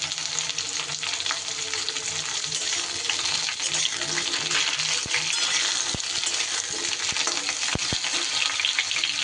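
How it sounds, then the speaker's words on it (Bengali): Pointed gourd and taro fry in an oily pan, a steady dense sizzle throughout, with occasional sharp clinks and scrapes of a utensil against the pan and no voices. "কয়েক সেকেন্ড পটলটা নেড়ে নেবার পর এইবার আমি দিয়ে দিচ্ছি গাঁটিকচু"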